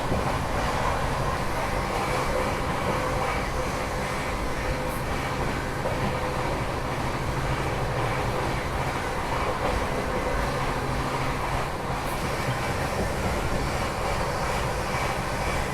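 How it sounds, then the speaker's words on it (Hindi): Bangalore Rajdhani Express running at 130 km/h, heard from inside the train as a loud, continuous roar of wheels and rushing air with a steady low rumble; no talking. "130 की रफ्तार में अपने सफ़र में बेंगलोर की ओर बढ़ते हुए बेंगलुरु राजधानी एक्सप्रेस"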